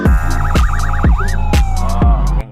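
A toy police car blares a loud, close electronic siren with a wavering wail, punctuated by repeated sharp beeping pulses roughly every half second, no talk over it.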